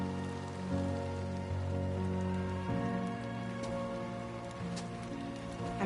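Steady rain falls outside in the video game Death Stranding 2, a soft, even patter over sustained tonal music and ambience, with no talking.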